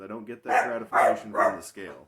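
A dog barks in the background of a home recording, several rhythmic barks that swell and fade under a person's steady nearby talking.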